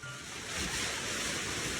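Strong, fast wind tears spray off a waterfall in a continuous loud broadband roar with a gusty rushing texture, with no voices.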